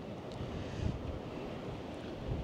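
Cold wind blowing outdoors on a trip in Japan, a continuous low rumbling buffet with gusty swells, hitting the microphone at moderate level with no voices.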